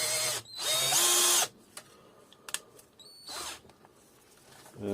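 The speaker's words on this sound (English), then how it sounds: "So I'm using 3mm drill." A power drill with a 3mm bit whines in two short high-pitched bursts drilling a Vauxhall Opel 1.9 CDTI metal inlet manifold, the second brief, with quiet clicks and handling noises between them.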